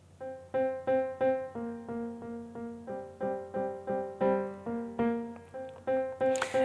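A rhythm-section synth part quantized to 1/16th triplets in a Logic Pro remake, built with stock plugins: a steady stream of short plucked tonal stabs in a pulsing, slightly off-kilter triplet rhythm, heard alone.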